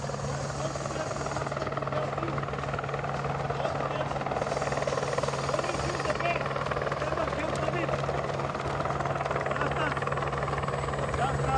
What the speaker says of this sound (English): The helicopters above, that's why we've got such great aerial shots.